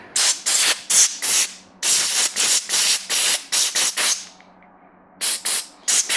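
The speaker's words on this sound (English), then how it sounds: "with the base valve, take some brake clean" Brake cleaner sprayed from an aerosol can onto a KTM motorcycle fork base valve and its shims, in a long run of loud, close, sharp bursts of about half a second each, with a brief quiet pause before the last few.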